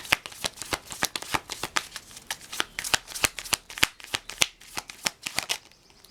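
Tarot cards riffle and snap in quick, sharp bursts across the whole stretch, each flick clear and close with no voices over it.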